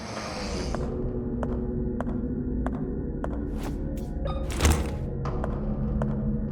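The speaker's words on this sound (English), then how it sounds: "we're going to reload our shotgun" An improvised pipe shotgun being reloaded in the game Tormented Souls: a series of dull mechanical thunks and clicks spaced over several seconds, with one sharper louder clack near the middle over a low ambient hum.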